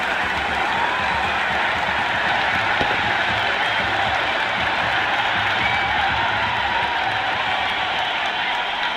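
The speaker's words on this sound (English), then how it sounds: "It's almost palpable, the excitement emanating from this crowd at the moment." A stadium crowd in the cricket video game Cricket 26 roars with sustained applause and cheering, a loud, dense wall of clapping and shouts that holds steady throughout.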